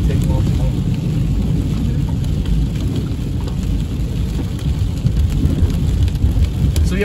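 Extremely heavy torrential rain pours over Big Bear valley, California, a loud, unbroken roar of downpour battering surfaces close by for the whole stretch.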